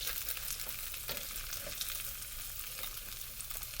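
Yellow squash frying in hot oil, a steady close sizzle and crackle that hisses on without a break, with small pops scattered through it and no voices.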